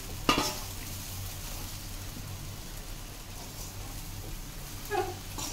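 Lemon idiyappam being tossed and mixed in a pan over low heat, a steady soft sizzle and rustle with a sharp utensil knock at the start and another near the end.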